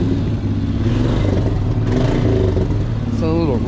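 A Sportsman ATV engine runs raspy and rough near a flooded, overflowing river, a loud steady drone with some clatter as it revs, while someone speaks briefly over it.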